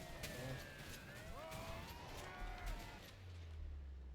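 Cars pass along a street in the video game A Way Out, with engine whooshes and sweeping tonal sounds crossing the scene at a modest level, and a low rumble building near the end.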